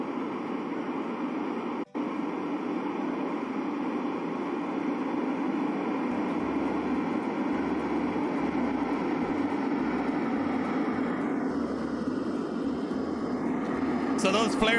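In Escape from Tarkov, an airdrop plane flies in with a steady, loud, continuous engine drone that holds for the whole stretch, broken by one brief click early on.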